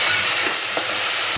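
Green masala paste hits a hot pan for egg masala, a loud, close, continuous hiss of sizzling with faint stirring scrapes, no talk.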